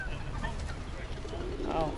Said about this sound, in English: Wow, there's a lot of pigeons right now.